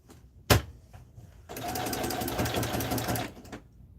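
A sewing machine stitches a box pattern on denim: a sharp knock at the start, then a steady, close burst of rapid needle chatter lasting about two seconds before it stops.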